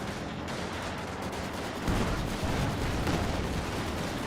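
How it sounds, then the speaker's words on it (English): Rapid gunfire and heavy cannon blasts from a Panzer IV tank battle in Company of Heroes 2, a dense, continuous barrage with a louder booming burst midway. "Panzer IV does roll a miss onto him."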